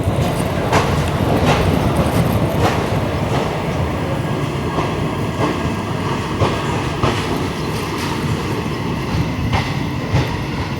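The Marathwada Express pulls out of Nagarsol station, heard from inside a general-class coach as a loud, steady rumble with recurring clickety-clack of wheels over rail joints and no talking.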